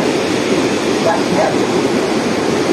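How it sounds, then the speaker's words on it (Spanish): The Chancay river in flood roars loudly and steadily as rushing water carries rocks that knock together beneath the surface, a dense continuous rumble heard close up without speech. "Puede escuchar cómo por debajo las rocas chocan entre ellas por la fuerza con la que viene el agua."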